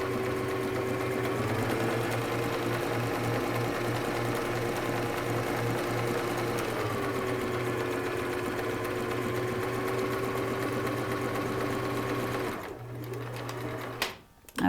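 A sewing machine stitches a zigzag hem on slightly stretched turban fabric. It makes a continuous, even mechanical whir for about twelve seconds, then stops, leaving a few brief handling sounds.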